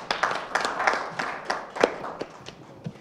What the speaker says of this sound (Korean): 박수로 맞이해 주십시오